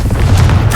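A Confringo fire spell cast in the video game Hogwarts Legacy bursts as a loud, deep boom that rumbles for under a second, close and alone with no talking.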